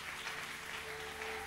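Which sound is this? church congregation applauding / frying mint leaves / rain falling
church congregation applauding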